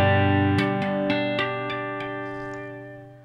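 Electric guitar neck single-coil pickup played through an Xotic EP Booster pedal, a sustained chord followed by a quick series of picked notes, bright and clean, ringing out and fading.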